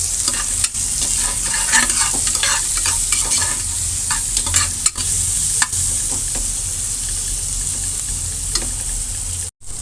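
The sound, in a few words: onions with green chillies and salt frying in a pan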